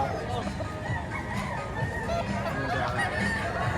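Chickens clucking at a poultry market in Padre Garcia, Batangas, scattered calls rising over a busy, noisy background while people talk nearby.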